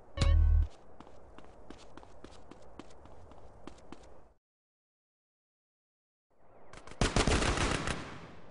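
Gunfire from a Ballas attack mission in the game GTA San Andreas: a loud opening blast, then rapid automatic shots in a steady run. A silent gap follows before another dense, loud burst of fire.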